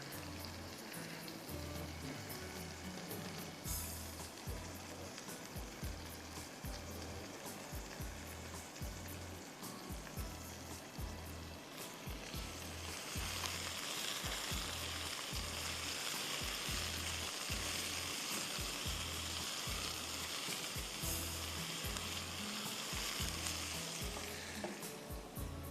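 Oil sizzles and crackles in a pan as a baghar tempering cooks for bakla, a dense continuous hiss with rhythmic low thumps from stirring, growing brighter and fuller partway through.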